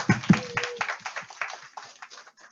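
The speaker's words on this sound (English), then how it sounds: "Yeah, round of applause." A handful of people clap briefly for a working group at a community meeting, a few sharp close claps at first that quickly thin out and fade.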